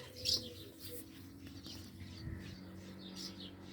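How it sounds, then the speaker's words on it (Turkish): Pigeons coo softly and chirp close by, with low rolling calls repeating over quiet background hum and a faint rustle. "Ana güvercin bir daha gelip yavru yapacak herhalde."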